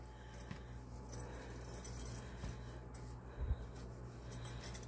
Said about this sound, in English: putting those keys in my pocket.